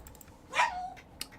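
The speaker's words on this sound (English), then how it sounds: "dog, if you keep barking, I'm going to kill you on YouTube." A single dog bark sounds close by in a quiet indoor room, a short sharp yelp standing alone over faint background hiss.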